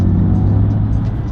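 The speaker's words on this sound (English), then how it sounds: "You can hear my car. My car is so loud." A car's loud engine drones steadily from inside the cabin, a heavy low rumble and whir that holds constant throughout with no pauses, as if cruising in traffic.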